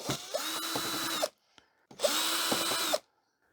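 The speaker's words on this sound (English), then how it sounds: "And then we'll remove the screws all the way around the edges." Power screwdriver backing screws out of the rear panel of an LG 37-inch LCD LED TV: two close, loud whirring bursts of about a second each, separated by a short pause with a faint click.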